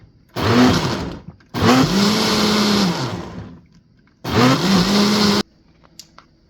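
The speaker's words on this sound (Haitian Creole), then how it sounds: "Je vais le blender." An electric blender whirs through figs and carrots for a drink, running in three loud bursts of about a second each, with short silent pauses between them.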